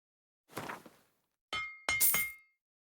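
A statuette is dismantled at the crafting menu in The Witcher 3, producing three short, crisp game effects: a crunchy rattle, then two bright glassy clinks and shatters, loud and isolated against silence.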